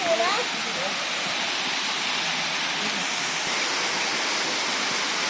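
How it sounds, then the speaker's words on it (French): Khun Si Waterfall in the Koh Samui jungle roars as a steady, loud, broadband rush of falling water, continuous and close with no break. "Déjà ici, nous voyons une partie de la cascade."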